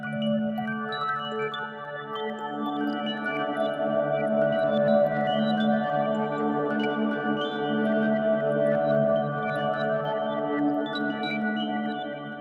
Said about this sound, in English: a bunch of notes of the music box mangled together, reversed, reverbed together